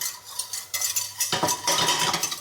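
Flour is whisked into melted butter in a pan for a white sauce. Light metallic scraping and clinking start it off, then a denser, faster, close whisking rhythm takes over.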